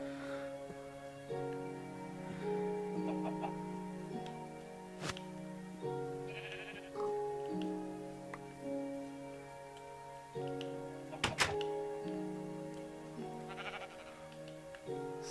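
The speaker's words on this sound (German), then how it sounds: "So, komm, Schäfchen" Sheep in the video game Minecraft give several faint, nasal bleats spread over a quiet stretch, with soft clicks and a steady background tone and no talk.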